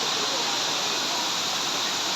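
Kutralam waterfall in the hills roars as a steady, dense rush of falling water, continuous and even throughout with no pauses or voices.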